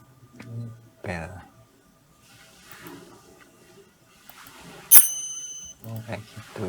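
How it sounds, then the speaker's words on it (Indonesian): A bell sound effect rings once in a bright, sharp ding, set among other layered effects in a Dolby Atmos mix in Nuendo 12, with soft rumbles and thuds around it. "Berarti belnya di agak atas."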